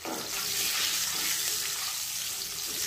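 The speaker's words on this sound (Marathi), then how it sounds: "तर हे अंडे अशा पद्धतीने काप करून आपल्याला या तेलामध्ये भाजण्यासाठी सोडायचे आहेत" Sliced boiled eggs fry in oil in a kadhai, producing a steady, close, loud sizzle that runs throughout without any talk.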